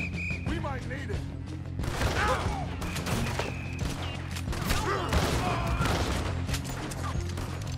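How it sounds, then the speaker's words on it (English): Gunfire from Red Dead Redemption 2 gameplay rattles out in busy overlapping volleys of shots and impacts over a dense game soundscape, with a voice faintly under the action. "Not even dying because of these shots."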